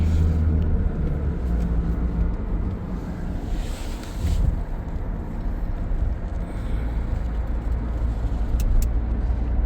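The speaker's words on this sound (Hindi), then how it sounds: "तो गाइस इधर टैक्सी आती है, ये इनोवा टैक्सी है।" A Toyota Innova taxi driving through Dubai gives a steady low road and engine rumble with wind buffeting, heard from inside the vehicle and continuous throughout, with no talking.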